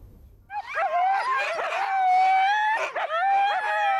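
Sled dogs from Karelia, harnessed to a dog sled, howl and yip in a long, rising and wavering chorus, loud and close, after a brief quiet start.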